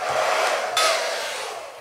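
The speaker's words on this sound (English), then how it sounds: "So let's put a hair dryer on it." A hair dryer blows steadily across a freshly painted watercolor of an anchored boat on water, a close, continuous whirring hiss that swells slightly partway through and then holds.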